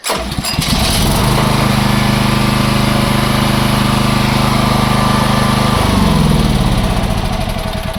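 Champion CPG7500E2-DF-EU 7.0 kW dual-fuel generator on LPG, pull-started by hand, catching and then running loud and close with a steady, even engine drone that shifts slightly in pitch near the end.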